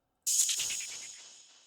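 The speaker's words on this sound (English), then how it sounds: "Hi-hat roll." Hi-hat roll in an FL Studio beat, a rapid run of crisp, hissy hits that blur into a bright shimmer and slowly fade, heard alone.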